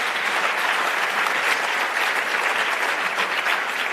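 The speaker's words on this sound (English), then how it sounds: "Let's just give them a round of applause again." An audience at a BRICS youth trade convention applauds the panelists with steady, dense clapping that holds evenly and loud throughout, no voices on top.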